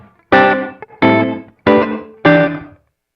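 Four distorted guitar chords played through the room setting of an Alabs Cetus reverb pedal, each struck separately and cut off fairly quickly with a short, tight ambience before silence, no voices present.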